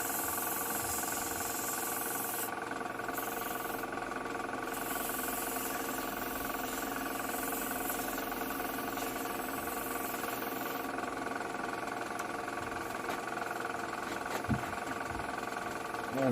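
A wooden spinning top turns on a lathe during final-grit sanding, a steady motor hum with layered tonal whine running throughout, a faint scratchy hiss rising above it, and brief light knocks near the end.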